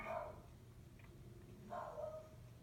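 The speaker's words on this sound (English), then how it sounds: "now the dogs are barking because of the gardener" Dogs bark faintly in the distance, two short bursts about two seconds apart over a steady background hiss, set off by a gardener working nearby.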